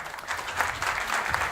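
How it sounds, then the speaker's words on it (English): Conference audience applauding a C++ talk, dense steady clapping from a hall full of people, close and even for the whole moment. "Don't applaud, I didn't do anything yet."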